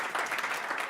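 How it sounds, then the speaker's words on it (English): Brief burst of audience applause after a startup pitch, steady clapping from a modest crowd lasting under a second. "Let's applaud to the project."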